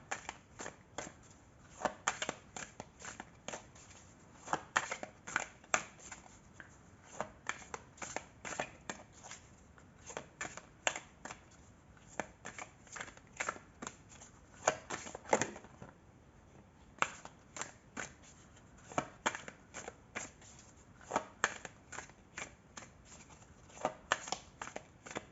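Oracle cards of an emotions deck being shuffled by hand, repeated crisp riffling and flicking bursts in an irregular rhythm, close and fairly soft, continuing throughout.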